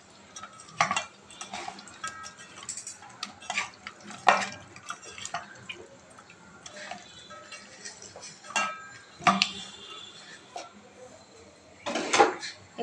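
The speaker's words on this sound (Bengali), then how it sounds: "হলুদ, লবণ আর মরিচের গুঁড়া দিয়ে মেখে নেব। ভালো করে মেখে তারপর ভেজে নেব।" Fish is mixed with turmeric, salt and chili powder in a home kitchen, giving soft, scattered stirring and clinking sounds with quiet gaps between them.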